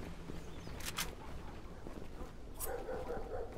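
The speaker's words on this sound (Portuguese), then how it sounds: "Cachorro é que não falta nesse lugar aqui também" A couple of dogs bark a few times at a distance amid background noise and movement in the video game Zula.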